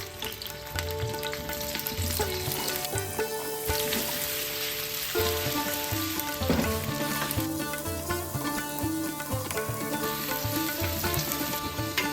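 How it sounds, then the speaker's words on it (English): Steady sizzling of sausage pieces frying in a pan, continuous and close, with a light crackle throughout and music playing underneath. "Now frying the sausage pieces."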